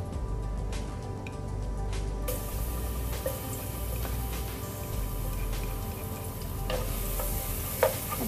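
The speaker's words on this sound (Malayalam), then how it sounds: "ഇനി നമ്മൾ ഇതിലോട്ട് ചേർത്ത് കൊടുക്കാൻ പോകുന്നത് ഗാർലിക് ആണ് അപ്പോൾ നമുക്ക് അത് ആഡ് ചെയ്ത് കൊടുക്കാം" Chopped garlic frying in oil in a pan while Singaporean rice is prepared, giving a steady, close sizzle with soft stirring scrapes and occasional crackles throughout.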